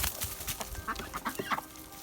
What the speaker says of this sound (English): All right, let's feed the chickies.